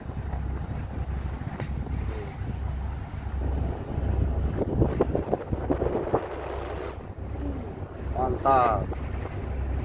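A boat sails a calm sea between Balikpapan and Satui, a steady low engine drone and hull rumble running throughout with light wind buffeting on the microphone; someone speaks briefly over it.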